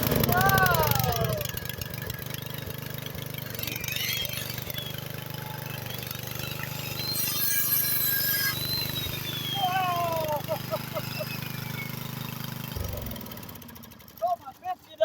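A small gasoline generator runs steadily after starting, a continuous buzzing engine hum close by that cuts out near the end, with excited speech heard over it throughout.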